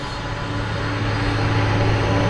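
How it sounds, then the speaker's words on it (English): A Boeing 777 airliner comes in to land at Frankfurt Airport on runway 25R in freezing weather, giving a steady, loud, broadband engine roar with a low hum and no break throughout. "To that mighty 777 coming in from what I thought was Washington."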